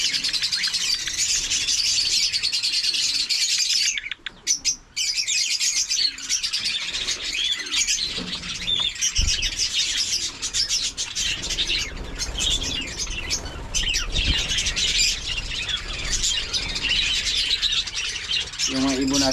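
Pet birds released outdoors chirp and tweet continuously in a dense, bright chorus, with occasional wing flaps and squawks, while people talk nearby.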